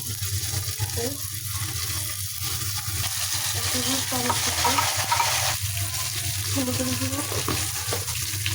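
Ginger-garlic paste dropped into a hot frying pan for chicken meatballs (koftas) sizzles steadily, with intermittent stirring scrapes and clatter over a constant low kitchen hum.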